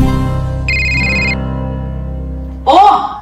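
A phone rings at home with a short electronic ringtone burst over steady background music, followed by a brief sharp rustle near the end.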